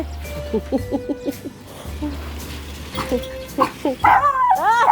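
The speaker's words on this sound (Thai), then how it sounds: "เห็นไหมพอปิดประตูเห่าเลย" A short-legged dog barks behind a closed door, giving a string of sharp, close barks followed by whimpers and yips, with a person talking in between.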